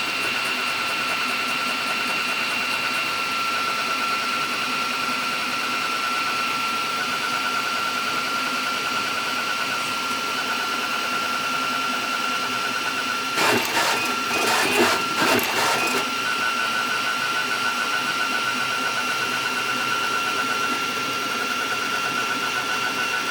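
Flashforge Adventure 5M 3D printer printing a .444 Marlin loading block, a steady mechanical hum with a constant high whine, briefly joined by a short burst of rattling clicks midway.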